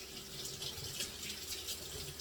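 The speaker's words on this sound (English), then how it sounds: "I'm going to rinse my hand." A hand is rinsed under a running kitchen tap, a soft steady rush of water splashing alone at moderate distance for a couple of seconds.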